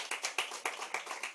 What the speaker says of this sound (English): So please give them a round of applause also.